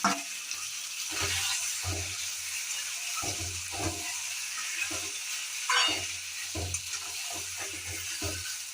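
Marinated chicken with spices and raw onion hitting hot mustard oil, a soft hissing sizzle with repeated stirring scrapes and clinks, close but fairly quiet, no voices.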